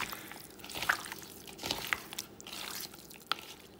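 Chicken 65 pieces being mixed by hand with ginger-garlic paste and salt, soft wet squishing and squelching with a few sharper clicks, close and steady without talk.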